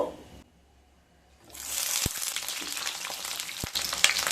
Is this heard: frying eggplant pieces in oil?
yes